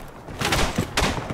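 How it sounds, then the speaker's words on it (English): Two grenade blasts in the World War I shooter Tannenberg go off close by, each a sharp broadband burst with a dull thump, the second louder and about half a second after the first, over a constant low battlefield rumble. "Oh, another grenade."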